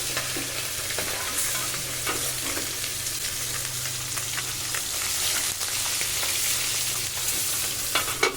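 Small jiol fish frying in well-heated oil in a pan, a loud, steady, close sizzle with dense crackling and occasional sharper pops throughout, no voices.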